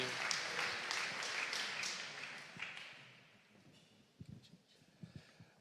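Audience applause at a presentation forum, a dense wash of clapping that fades out over the first few seconds, leaving a quiet room with a few scattered taps and knocks.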